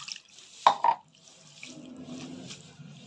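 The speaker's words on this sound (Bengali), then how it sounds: "এবার অল্প জল দিয়ে দেব" Water poured into a cooking pot of dried kachki fish curry: a brief splash followed by a soft, gentle trickle and low bubbling, close and quiet.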